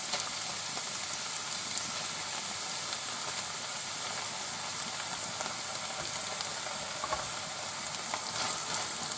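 Sour cream stirred into chicken breast and mushrooms frying in a pan, a soft, continuous sizzle and hiss with faint stirring scrapes, no one speaking.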